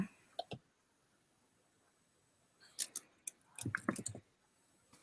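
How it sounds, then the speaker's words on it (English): Scattered, faint clicks of typing on a computer keyboard, with a few isolated taps at first and then a quicker burst of keystrokes after a pause, in a quiet room. "I'm a slow typer."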